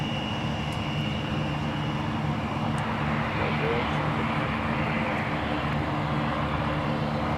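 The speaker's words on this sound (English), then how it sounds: "Embraer 175 LR. Most likely headed over to runway 17." Steady broadband engine roar from an Embraer 175 LR jet airliner taxiing toward runway 17 at Minneapolis–St. Paul airport, constant and moderately loud, with a faint whine and speech mixed in.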